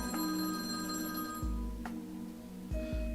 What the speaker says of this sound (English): the silence was broken by the sound of the phone ringing